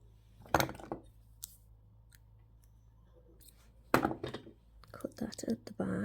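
Wire for wire-wrap earrings being snipped with cutters at close range in a quiet room: two sharp, separate clicks a few seconds apart, with soft low talk and handling noise near the end.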